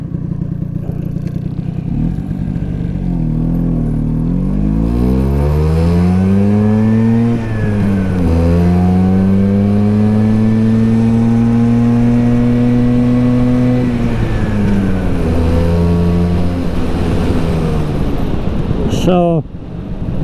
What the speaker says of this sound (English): the engine doesn't seem to want to wind up as high as I think it should